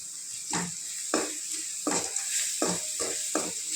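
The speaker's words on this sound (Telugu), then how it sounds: "ఆయిల్లో ఇలా ఫ్రై చేయడం వలన" Ingredients fry in hot oil in a pan for a Tamil Nadu-style leafy greens dal sambar, a constant sizzle broken by about six rhythmic scraping stirs.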